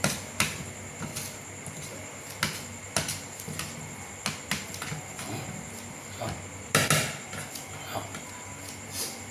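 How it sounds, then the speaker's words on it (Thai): A hammer strikes repeatedly at an uneven pace, sharp close knocks spaced a second or so apart with one heavier blow, heard alone without talk. "นี่ถ้าใช้ค้อนใช้แบบนี้นะพอทำให้ดูเนี่ย"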